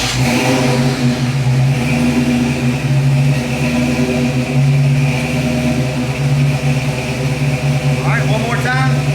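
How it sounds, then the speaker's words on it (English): A Ford Mustang Fox body engine runs loud and steady at close range, holding a strong low idle with a faint rise in revs near the end. "let's just go ahead and start the car up"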